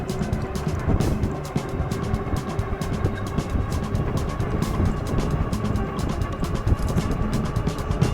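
A Movcan V30 Max off-road electric motorcycle runs at full throttle, a steady, loud, continuous motor whine and wind rush with rapid ticking and rattling throughout, and no talk.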